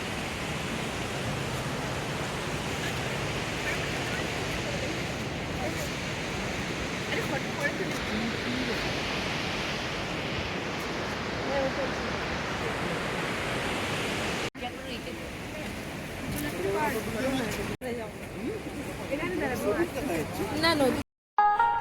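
A mountain river in North Sikkim rushes beside the road, a steady broad roar of flowing water filling the scene, close and loud, with brief breaks in the final seconds.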